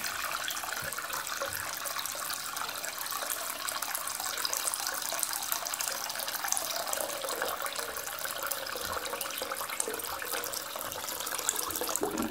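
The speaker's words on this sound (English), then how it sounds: "Now repeat it using the hot tap, which obviously makes the water flow" Hot water runs from a tap into a sink with a steady, moderately quiet hiss and splash that holds evenly from start to finish, with no talking.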